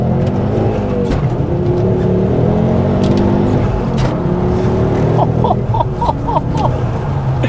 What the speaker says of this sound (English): That engine is just so sweet.